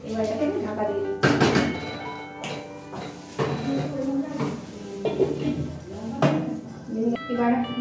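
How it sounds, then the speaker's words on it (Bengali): A lid goes onto a pot of khichuri cooking on a gas stove, with several metallic clinks and thunks of cookware handled at close range while a voice talks over them. "এবার এটাকে আমি ঢাকা দিয়ে দিচ্ছি।"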